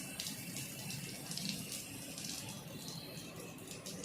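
Water and air rush out of a pressure releasing valve in a steady, hissing gush that stays constant throughout, with faint rattling underneath.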